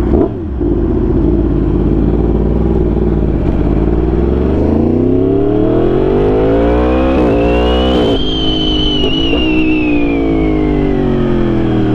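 Suzuki GSX-R sport motorcycle ridden hard on chilly Los Angeles mountain roads, engine revving up steadily through the gears in a loud, continuous close-up drone with rising pitch, no talking.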